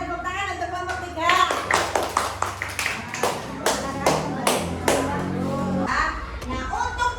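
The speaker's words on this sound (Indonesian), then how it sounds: "Ya, tepuk tangan untuk kelompok 3." Students in a classroom clap together for a small group of classmates, sharp rhythmic claps rising and falling over a few seconds while a teacher's voice and children's chatter mix in.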